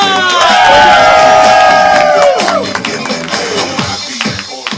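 A comedy club audience cheers, whoops and applauds as the host of an improv show is welcomed, loud and close, with high sliding shouts at first and clapping tapering off toward the end.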